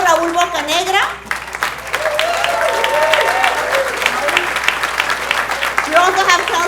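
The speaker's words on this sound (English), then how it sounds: "Congressmember Tony Cárdenas, can you please stand up for a big round of applause?" A crowd claps steadily at a city council inauguration ceremony for Congressmember Tony Cárdenas. The broad, sustained applause runs throughout the clip, with a voice speaking over it at the start and again near the end.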